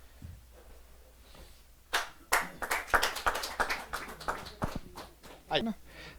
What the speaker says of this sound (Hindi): जरा जोरदार ताली के साथ उनका अभिनंदन करें